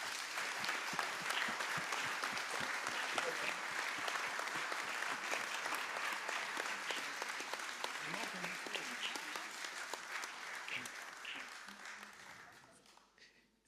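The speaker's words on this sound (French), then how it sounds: "Sous vos applaudissements." Sustained audience applause at an award ceremony in France fills the room, dense clapping that holds steady for most of the stretch before tapering off near the end, with some voices mixed in.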